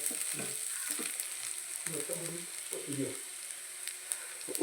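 Greens, spinach with green gram, sautéing in a pan, a faint, soft sizzle with stirring while a person talks quietly nearby.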